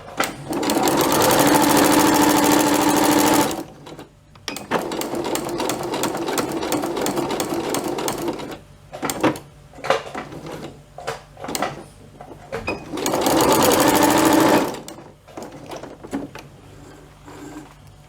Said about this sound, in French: Il suffit juste de la laisser entraîner par la machine à coudre.